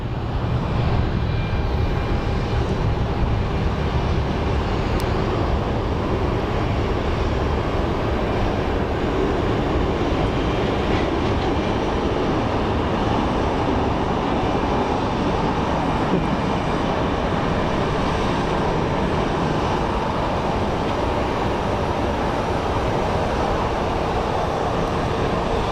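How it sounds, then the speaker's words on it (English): Airbus A320neo airliner engines roar at Sky Harbor Airport, a loud, constant, broadband jet rumble sustained throughout without a break. "You forget how large the engines are on these A320neos."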